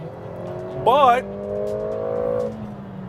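The engine of a 2021 Mercedes-AMG GLA 45 holds a steady, smooth drone from inside the cabin as it accelerates, with someone briefly speaking over it near the start.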